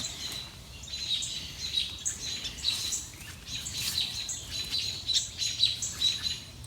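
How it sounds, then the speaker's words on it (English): Many birds chirp and tweet steadily in a lively outdoor chorus, moderately distant, with no voices. "Birds are going crazy."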